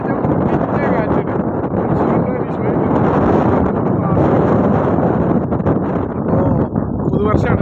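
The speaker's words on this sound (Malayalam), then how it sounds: "കാറ്റെന്ന് പറഞ്ഞു കഴിഞ്ഞാൽ മുട്ടിൻ്റെ കാറ്റാണ്." Strong wind at sea buffets a small fishing boat out angling for tuna and queenfish, a loud, continuous gusty roar and microphone buffeting that fills the whole stretch with no clear break.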